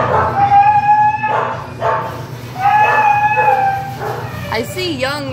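A small dog lets out a string of high, drawn-out yips and whiny barks, close up, with a short whimpering sound at the end.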